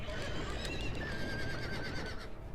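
A horse whinnies in a long, wavering neigh over dense, noisy background sound in a Game of Thrones video game.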